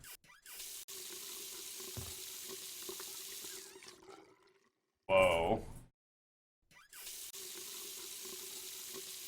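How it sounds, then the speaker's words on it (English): A kitchen faucet in Friday the 13th: The Game runs with a steady rushing stream, stops, then resumes; a brief voice exclamation breaks in during the pause. "Okay, so I definitely turned the faucet on"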